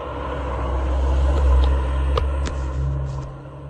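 A Monaco-registered Porsche drives past on a mountain pass road during a classic car event, a low engine rumble swelling to a peak and then fading as it moves away.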